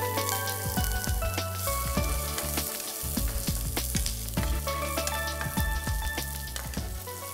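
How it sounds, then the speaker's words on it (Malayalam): Ginger, garlic and onion fry in hot coconut oil, giving a loud, continuous close sizzle with scattered crackles and pops throughout, no voices over it. "വെളിച്ചെണ്ണ ചൂടായിട്ട് നമുക്കിതിലേക്ക് ഇഞ്ചി ഇട്ട് കൊടുക്കാം"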